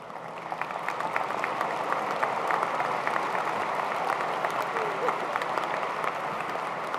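Sustained audience applause fills a valedictory ceremony hall, a dense steady wash of many hands clapping at moderate loudness throughout, with no clear talk over it.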